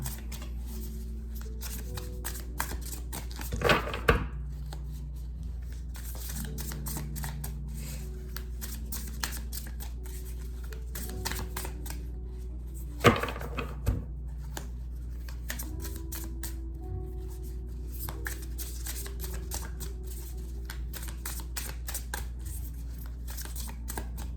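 Tarot cards are shuffled by hand, a soft, repeated papery riffling and flicking with a few sharper snaps. It is close and quiet, with no talking.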